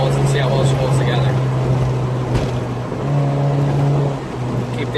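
A car in third gear at about 67 mph, its engine held at high RPM and its exhaust patched with a Bud Light can, gives a loud, steady droning roar that runs throughout while people talk over it.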